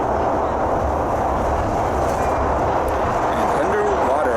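A Nord metro train runs underground, a loud, steady rumble and roar of rolling carriages with faint squeals, continuous throughout.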